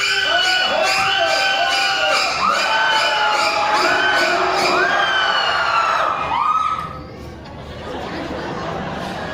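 An audience at a special effects show at Universal Studios Hollywood screams loudly and continuously on cue, high shrieking voices rising and falling together for several seconds before dying down into scattered chatter.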